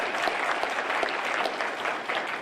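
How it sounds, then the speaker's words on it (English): Audience applause at a political summit in Oklahoma, steady clapping from a crowd filling the whole stretch at even loudness with no voices over it. "let's get a clap for that."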